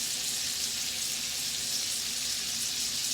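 Steady, close sizzling and crackling of steak frying in a hot pan, continuous and bright with no talking.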